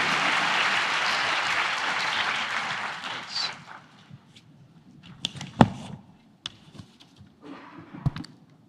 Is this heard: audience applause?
yes